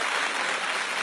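A TV talent show audience applauding, a dense steady wash of clapping that fills the whole short moment without a break.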